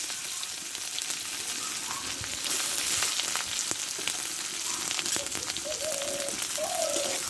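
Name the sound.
onions frying in mustard oil with dried chillies and cumin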